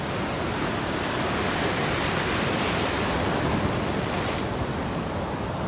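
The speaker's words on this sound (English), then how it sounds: "The ocean is just raging this morning" Ocean waves surge and crash heavily in Cartagena, Colombia, a loud, continuous roaring wash of surf with no voices.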